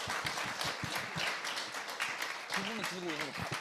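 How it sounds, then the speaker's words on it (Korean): Audience at a political party event claps for the party leader being introduced, scattered clapping with sharp individual claps in a crowd, a voice speaking over it near the end. "여러분 큰 박수 부탁드리겠습니다."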